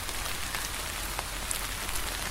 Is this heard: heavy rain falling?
yes